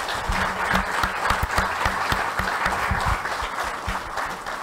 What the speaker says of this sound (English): So I just want to give these guys a massive round of applause.